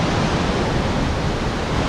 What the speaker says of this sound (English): Here at Dosewallips Falls this Memorial Day weekend.